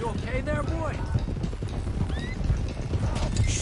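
A loose stallion in Red Dead Redemption 2 whinnies repeatedly while hooves clip-clop at a fast gallop, with a game character shouting over the loud, busy scene.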